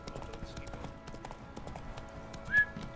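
Faint rhythmic hoofbeats of a running horse in the video game The Witcher 3: Wild Hunt, a quick steady clip-clop, with a brief brighter tone near the end.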